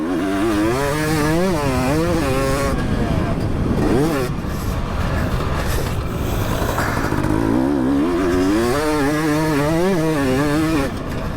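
Husqvarna two-stroke fuel-injected motorcycle engine revving loudly and continuously, with rising and falling pitch sweeps, under people talking.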